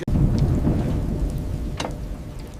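Steady rain with a deep rumble of thunder throughout, a louder crack rolling through near the end; no voices.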